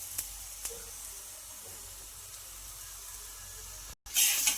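An aloo paratha roasts on a hot pan with a faint, steady sizzle and hiss, broken by a couple of small ticks and a short, louder burst of sizzling at the end.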